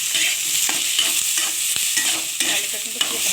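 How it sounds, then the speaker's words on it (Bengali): Cubed potatoes fry with tomato paste in a pan for a spicy okra, potato and fish roe curry, with a steady close sizzle and repeated scraping stirs of a spoon throughout, and no talking. "আলুটা কিন্তু খুব ভালো করে ভেজে নিতে হবে"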